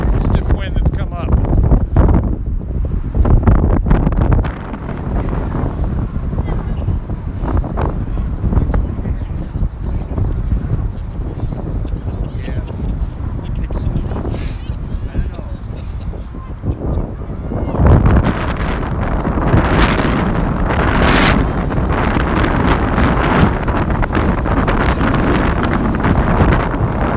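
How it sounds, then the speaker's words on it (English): A stiff wind at an outdoor football match buffets the microphone with continuous loud, gusty rumble, stronger toward the end, under the sound of talk. "It's a stiff wind that's come up."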